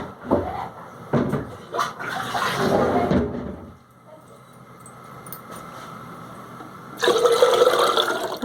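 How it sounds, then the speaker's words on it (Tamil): Water poured from a small pot, two potfuls, into a cooking vessel for urad dal porridge, a splashing pour in bursts with a louder stream near the end. "2 சொம்பு தண்ணி ஊற்றிக்கிறேன் நான்."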